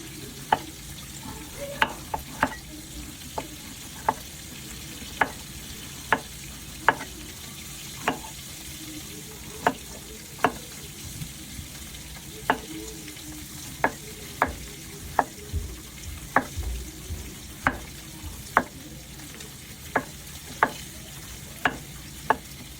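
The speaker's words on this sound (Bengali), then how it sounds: "এখন মশলা মেখে নিব মাছের সাথে, ভালো করে মাখিয়ে ভেজে নিব।" Spice-coated fish frying in a pan, a steady low sizzle running throughout with regular sharp clicks and taps of stirring on top, close up and with no one speaking.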